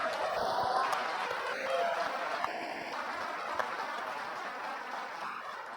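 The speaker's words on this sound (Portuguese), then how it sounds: "Aplauda de novo a Ele." Church congregation clapping together during a Portuguese-language service, a dense, sustained patter of applause filling the room for several seconds with a few scattered louder claps.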